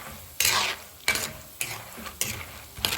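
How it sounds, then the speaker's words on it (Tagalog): Food frying in half a litre of cooking oil is stirred in sharp, repeated scraping strokes, about five over three seconds, close and loud against a steady sizzle, with no talk. "Tapos kailangan na halo natin ang maayos"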